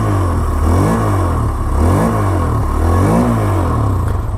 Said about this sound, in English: hear the beautiful exhaust note for the Hero Extreme 160R 4V.